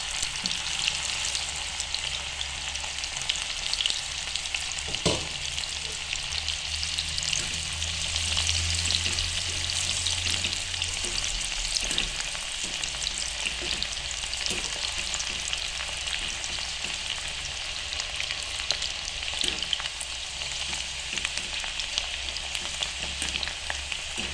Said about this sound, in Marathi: डाळ तळून घेतोय हे बघा इथे तेल ठेवलेलं आपण त्यात आपण डाळ तळायला टाकलेली आहे